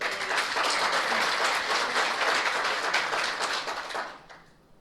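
An audience applauds a singer at a formal address on overseas Pakistanis, a dense, sustained burst of clapping that holds steady and then tapers off toward the end, with no voices over it.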